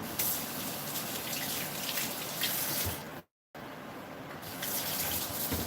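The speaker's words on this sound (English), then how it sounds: "I'm just going to get some water in my bowl to make it a little bit easier to clean" Tap water runs steadily into a bowl at a kitchen sink, a loud continuous splashing gush that stops briefly midway and then resumes.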